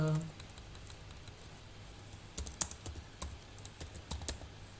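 Keys clatter on a computer keyboard as code is typed, a quiet irregular run of clicks in short bursts after a brief pause, close and alone.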